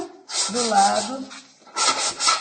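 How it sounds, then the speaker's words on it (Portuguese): Folded sandpaper scrubbing along the edges of a wooden piece, two bursts of quick back-and-forth rasping strokes separated by a short pause, loud and close, with a faint tonal squeak in the first burst. "Então, pegamos a lixa. Eu gosto de dobrar a lixa no meio."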